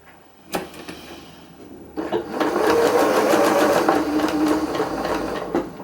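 A sewing machine stitching black thread on a fuchsia pink sweatshirt stripe, a brief click then a steady, close, rapidly pulsing whir that runs for several seconds with no voices over it.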